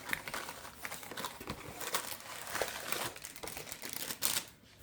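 Crinkly packaging rustles and crackles up close as a cake mix package is worked open in a home kitchen, with irregular bursts of plastic crumpling and tearing.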